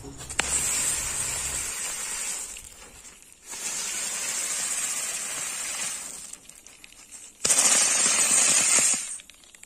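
Zebra brand red bijli firecrackers set off for Diwali, bursting in rapid crackling runs, three long loud volleys separated by short gaps, close by and with no talking.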